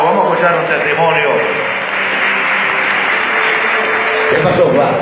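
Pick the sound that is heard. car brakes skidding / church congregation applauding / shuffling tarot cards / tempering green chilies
church congregation applauding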